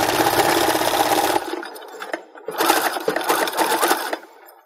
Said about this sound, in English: Just do an even stitch going all the way down.